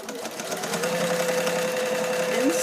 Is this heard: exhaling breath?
no